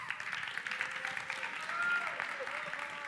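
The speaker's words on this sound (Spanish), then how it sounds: "sacar aquí a Agustín Armijo, por favor, aplausos para él." Steady applause from a school class, moderately faint and continuous, with a murmur of voices mixed in.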